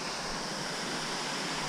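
Virginia Hawkins Falls on the Foothills Trail gives off a steady, loud broadband roar of falling water, close and unbroken, with no voices.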